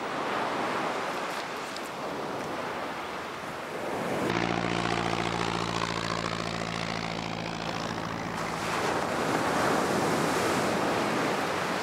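Surf rolls onto a beach at Kaikoura, New Zealand, a steady loud wash of breaking waves, while a propeller aircraft drones overhead through the middle stretch.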